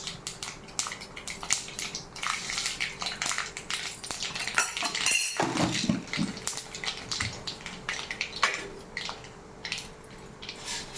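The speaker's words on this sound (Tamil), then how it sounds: "உளுந்து பருப்பு போடணும்" Urad dal tipped into a hot pan of mustard seeds for tempering brings a busy crackle and spatter with metallic clatter of utensil against pan, close and continuous throughout.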